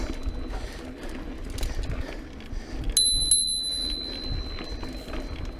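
A new bell on an adult mountain bike rings twice in quick succession, bright and close, leaving a sustained ringing tone over trail rumble and wind on a wooded loop at Harrison Bay.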